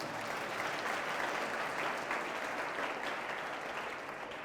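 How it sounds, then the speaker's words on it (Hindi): A church audience claps for the Lord in a dense, even burst of applause that holds steady from start to finish. "क्यों ना प्रभु के लिए ताली बजाए।"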